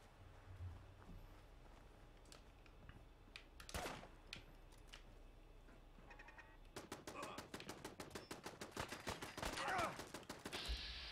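Gunfire in the video game Fallout 4: faint, scattered single shots, then a rapid, rattling burst of automatic fire that runs steadily for several seconds, quiet and distant in the mix.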